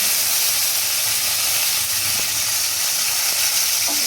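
Cinnamon and cloves crackle in hot oil for tempering, a loud, steady, close sizzle with a bright hiss throughout and occasional small pops.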